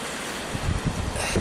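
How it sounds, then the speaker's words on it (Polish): Strong seaside wind on a beach buffets the microphone in loud rumbling gusts, with surf washing in behind it and swelling toward the end. "ponieważ jest wiatr duży, jak to nad morzem. A jesteśmy na plaży."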